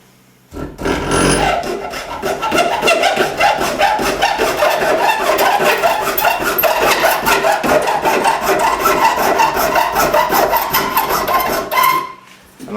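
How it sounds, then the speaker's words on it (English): A saw cuts a slot into a wooden dowel with rapid, regular back-and-forth rasping strokes, close and loud, continuing steadily for about eleven seconds before stopping. "I'm going to cut a slot in it."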